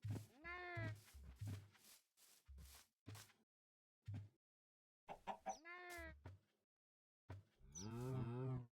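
Cows mooing in the Minecraft video game: several short, tonal lowing calls in separate bursts with silent gaps, the last one longer and fuller.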